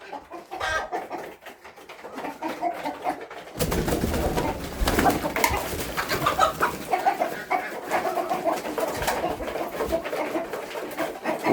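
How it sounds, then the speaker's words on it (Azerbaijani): Hens are let out of their coop, clucking and cooing close by amid rustling and scuffling movement, with the activity growing louder and busier after a few seconds and continuing steadily. "Gəlin buradakı toyuqlarımızı da buraxaq çölə."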